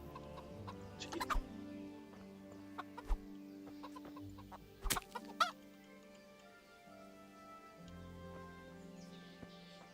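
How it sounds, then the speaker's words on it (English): A chicken clucks in scattered short bursts over a steady droning background, with a few sharp louder clucks standing out amid the low hum. "Chicken."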